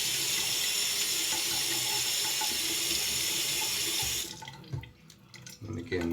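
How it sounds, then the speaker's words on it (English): A stainless steel PTFE-coated razor blade is rinsed under a running tap: steady, close gushing water for about four seconds, then the flow stops, leaving a few light drips and clinks. "So I just take the blade out, rinse it out a little bit more"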